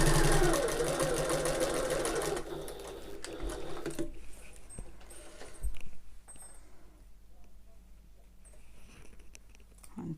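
A sewing machine runs steadily while stitching a tote bag, overlapping a few stitches at the start of the seam, then stops about four seconds in, leaving faint handling clicks and rustles.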